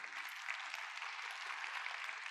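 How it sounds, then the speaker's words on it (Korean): Audience applause after a speaker is introduced at a keynote in a conference hall, a steady, even patter of many hands clapping at moderate distance, fairly quiet and continuous, without speech. "한국교통안전공단의 우리 오재영 차장님께 다시 한번 큰 박수 부탁드립니다"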